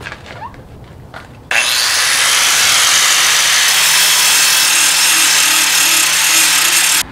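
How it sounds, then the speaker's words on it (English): Loud, steady grinding of the metal tips of a spatula being sharpened with a power tool, running continuously for several seconds after a short quieter start, with no talking. "I'm gonna sharpen the tips on the other side"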